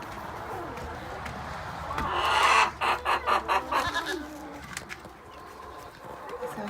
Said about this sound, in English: So here is our group of chickens.